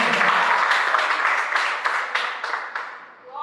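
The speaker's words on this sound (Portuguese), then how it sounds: "Você pode aplaudir mais uma vez o Senhor, querido?" A church congregation at a spiritual warfare worship service applauds together, a loud sustained crowd clapping that gradually thins and fades toward the end.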